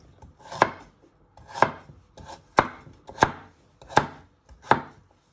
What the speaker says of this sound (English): Now you want to slice your carrots.